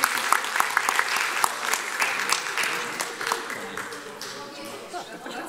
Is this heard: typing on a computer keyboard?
no